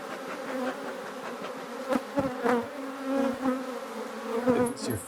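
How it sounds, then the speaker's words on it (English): A swarm of bees buzzing loudly and continuously at close range, a dense steady drone with a few louder swells and passing bees, no voices. "A lot of buzzing and potential danger and stinging and stuff"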